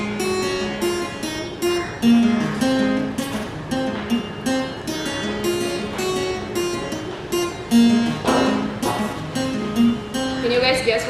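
An acoustic guitar strums a song up close, with steady rhythmic chords and a picked bass riff running continuously and loudly with no talk over it.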